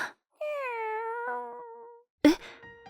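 A stray cat gives one long, drawn-out meow close by and in a clear setting, then a short, sharp second meow after a brief gap.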